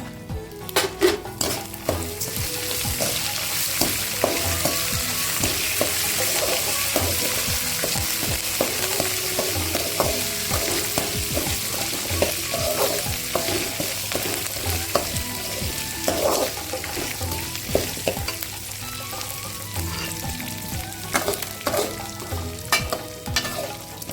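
Curry leaves and coriander stems fry in a pan for a toor dal thuvaiyal, giving a loud, steady crackling sizzle with sharp pops and occasional scrapes of a spoon against the pan.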